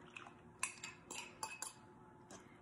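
A spoon stirs melted butter into banana bread batter in a mixing bowl, giving faint, scattered clinks and scrapes against the bowl in a quiet room.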